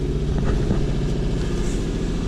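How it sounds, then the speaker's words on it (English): Sailboat inboard engine during a cold start on a harbor run, a low steady rumbling idle with a throbbing pulse, close and fairly loud, running continuously without voices. "start the engine, get it running"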